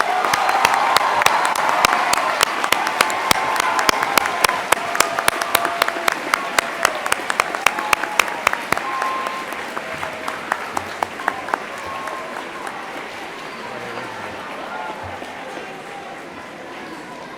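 An audience at a school class night ceremony claps for honorees, a sustained round of applause with crisp individual claps that gradually thins and fades toward the end.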